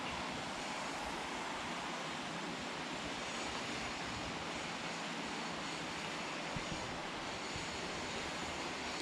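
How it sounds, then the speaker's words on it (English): Water of the River Rother running beneath a three-span bridge at Beighton, Sheffield, a steady broadband rush heard from above, with faint wind noise and no talking. "So there's the River Rother down there."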